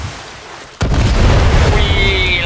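A bomb explosion in the video game Far Cry 6 lands as one sudden loud boom, then a sustained roaring rumble with a rising whine, all heard up close.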